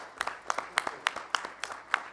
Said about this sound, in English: I would like to give Wayne a great round of applause for all of his efforts.